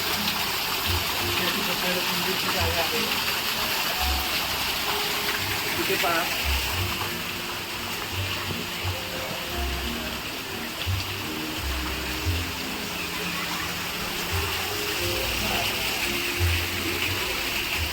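A small waterfall flows under a little bridge at a secret spot in Bangkok, a steady rushing gush that runs throughout with a voice speaking over it.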